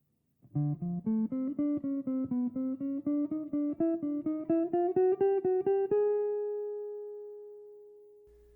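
A clean, picked jazz guitar phrase of about a dozen crisp notes in steady rhythm, climbing gently before settling on a final note that rings out and fades.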